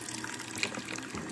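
Water runs steadily from a tap into a sink, a continuous close splashing hiss that fills the short moment without any voices.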